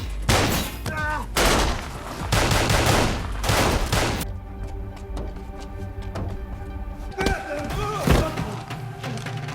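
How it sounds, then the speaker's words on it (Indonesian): Gunfire rings out in a film action scene, a rapid barrage of loud shots followed by scattered single bangs and thuds, with some voices mixed in. "diserang dengan hujan tembakan"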